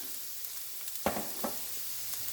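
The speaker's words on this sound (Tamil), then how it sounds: "பச்சை மிளகா போடுறேன்" Green chillies hit a frying pan while prawn fried rice is being cooked, producing a soft, steady sizzle with a couple of brief clicks from stirring, quiet and close, with no voices.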